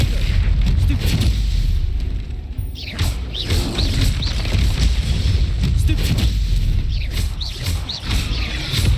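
Bombarda exploding spell cast in the Hogwarts Legacy video game, a string of loud booming blasts and rumbles over dense low combat noise, continuous through the whole stretch with sharper bursts around the middle and near the end.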